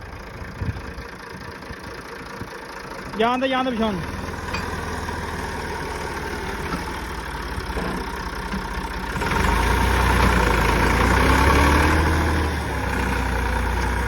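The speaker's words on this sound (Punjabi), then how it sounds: "ਇੱਧਰ ਟਰੈਕਟਰ ਫਸ ਗਿਆ" A tractor stuck on a dairy farm idles with a steady low rumble, rising louder later on, while a man calls out briefly nearby.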